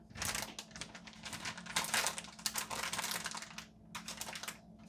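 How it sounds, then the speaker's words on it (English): Plastic crinkling as a quart Ziploc freezer bag holding chicken of the woods mushrooms is pressed flat and zipped shut, a dense run of close crackles and rustles with no talking. "Remove as much air as possible. Close up the zipper."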